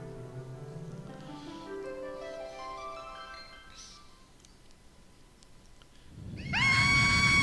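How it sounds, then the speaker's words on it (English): A high, harmonic scream bursts out near the end of a cutscene in the Wii game Chocobo's Mysterious Dungeon, loud and sudden after a stretch of rising orchestral background music. "Screaming noises! A cry of peril."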